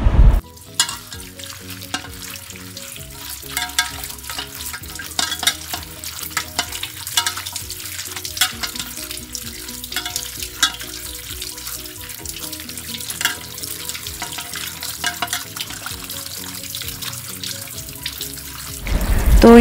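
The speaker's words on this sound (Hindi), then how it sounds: "अभी इसको अच्छे से हम लोग पानी से धो लेंगे" Sorrel vine leaves being rinsed in water, with steady splashing and running-tap noise throughout, dense and fairly close, no talk.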